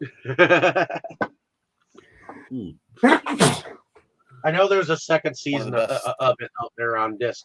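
A single sharp sneeze bursts out in a room, falling between stretches of close conversational speech.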